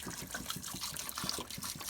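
Water poured into the tub of a Costway Giantex twin tub washing machine, a steady close trickling and splashing stream with no talk.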